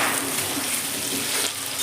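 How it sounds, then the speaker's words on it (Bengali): Potatoes sizzle and fry in hot oil with turmeric for an aloo dum, a steady close crackle with soft stirring scrapes, no voices. "তেলের মধ্যে আমি আলুটা নেড়ে নিলাম।"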